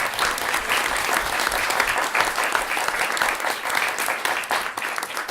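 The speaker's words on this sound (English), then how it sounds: "Let's give our panelists a round of applause." Loud, continuous audience applause for a panel discussion, a thick crowd of hands clapping steadily throughout with no talk over it.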